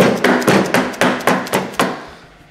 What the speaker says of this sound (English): Now we're gonna take our mallet and the excess piece of slide.